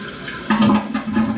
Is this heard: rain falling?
no